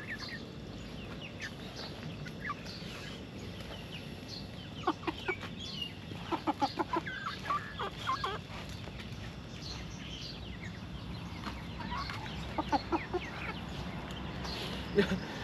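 A flock of backyard chickens clucks continuously in a coop beside a garden, with scattered louder clucks and calls rising over a low murmur. Faint voices are heard in the background.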